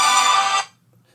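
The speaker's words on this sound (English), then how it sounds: "That was my phone going well." A mobile phone ringtone plays loud and close as a bright, steady electronic tone, then cuts off abruptly into silence after about half a second.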